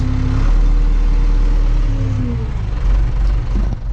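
Case IH 4230 tractor engine running close by, a steady low idle that rises briefly in revs, with slight pitch sweeps and no talk.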